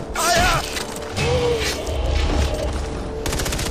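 Heavy gunner machine gun fire rattles in bursts in the video game Far Cry 4, mixed with mechanical clanks, booms and game effects, loud and busy throughout.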